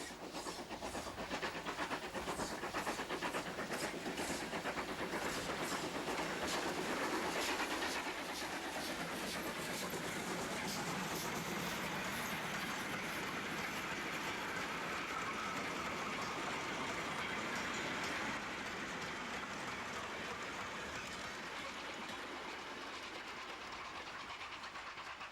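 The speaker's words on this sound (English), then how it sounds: "A rare sight these days is a steam-hauled goods train." A steam-hauled goods train behind GWR pannier tank 5764 rolls past with steady rumble, hiss and clattering wagons, loudest early and easing slightly as it continues.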